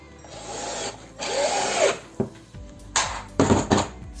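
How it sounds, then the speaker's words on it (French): A power screwdriver drives screws into wood, with several short whirring bursts of varying length separated by brief pauses, close and fairly loud. "il me reste à mettre des vis de l'autre côté."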